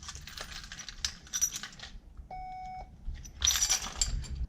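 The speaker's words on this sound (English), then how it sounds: "you can hear it beep to verify that the van is receiving it" A Ford Transit van gives one short electronic beep to confirm key fob programming, set between jingling keys and clicking handling noises.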